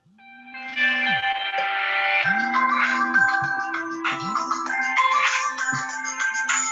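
A mobile phone ringtone plays loudly and close by, a bright melodic electronic tune repeating over several seconds with no talking over it, during a grandmothers' circle gathering.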